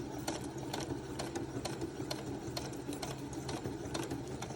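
A sewing machine runs steadily while stitching a paper heart banner, its fast, even needle rhythm close and continuous, with sharper clicks from the mechanism recurring throughout.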